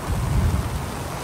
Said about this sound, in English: hear the thunder and lightning.